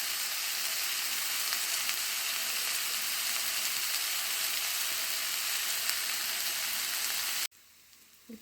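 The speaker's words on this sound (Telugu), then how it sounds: "ఉల్లిపాయలు వేగినాయి" Onions fry in a pan for a radish curry, giving a steady, even sizzle for several seconds that cuts off abruptly near the end, leaving faint background noise.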